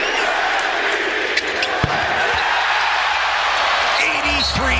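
Arena crowd roaring steadily in a basketball broadcast as Bam Adebayo heads to the bench after an 83-point game, a continuous wall of cheering with brief sharp thuds and a few rising whistles near the end.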